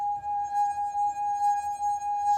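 A wet finger circling the rim of a wine glass makes it sing, producing a pure sustained ringing tone with faint overtones, steady and close, with soft rubbing pulses underneath.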